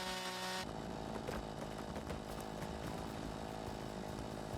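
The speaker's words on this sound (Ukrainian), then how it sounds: "Так, бензопилкою зріжемо знову." A chainsaw cuts down trees in the campsite-building video game Campsite Hustle, roaring loud and continuous with a gritty buzzing engine drone throughout, starting just after a brief musical tone.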